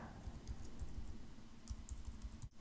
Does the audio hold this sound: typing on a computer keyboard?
yes